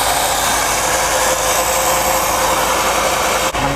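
A pump drawing gear oil during a car gearbox oil change runs with a steady, loud motorized whine and broad hiss, continuous and close, with a brief dip near the end and no talk.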